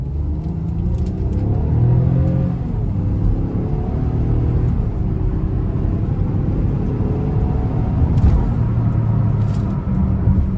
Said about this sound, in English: Now I'm gonna try to give it a good pull getting on the interstate here